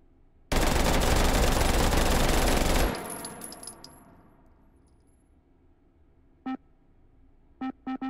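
Rapid automatic fire from a Glock pistol with a 50-round magazine in a VR shooting game, a dense loud burst lasting over two seconds, then a fading echo and a few sharp clicks.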